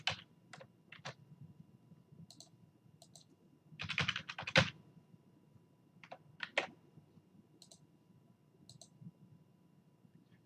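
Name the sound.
typing a new password on a computer keyboard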